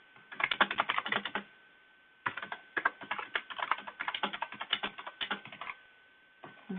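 Rapid clattering keystrokes on a computer keyboard, close and crisp, in two busy bursts separated by a short pause, then a few final taps.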